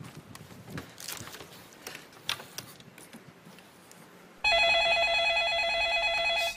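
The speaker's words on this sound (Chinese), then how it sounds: "小董接电话。" A telephone starts ringing partway through, a loud, steady electronic ring that cuts in abruptly and holds to the end, following a stretch of quieter shuffling and clatter.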